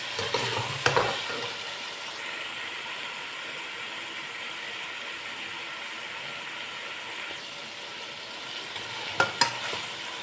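Tomatoes fry in a pan of chicken salan, a steady sizzle under a few clinking stirs of the spoon near the start and again near the end.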